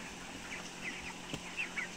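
Broiler chickens, 27 days old, fill a poultry farm house of some 7000 birds with faint, scattered clucks and peeps over a low background murmur, with a few slightly louder calls near the end.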